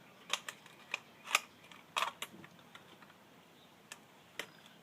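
Sharp small snips and clicks from cutting back parts while scrapping a police siren, a handful of quiet irregular cuts close by with faint room noise between them.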